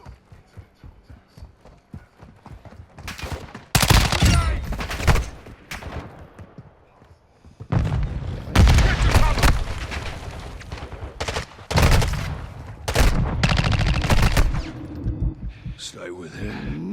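Gunfire in the Call of Duty video game: bursts of automatic fire and loud shots in a combat scene, dense and close, with game sounds and movement between volleys.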